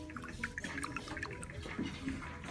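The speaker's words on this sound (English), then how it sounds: "make sure that you put your brush all the way to the bottom of the water bucket and gently tickle the bottom" Paintbrush swished and tapped against the bottom of a water bucket while being rinsed of tempera paint, producing faint, close-up sloshing, dripping and small splashy clicks in quick succession.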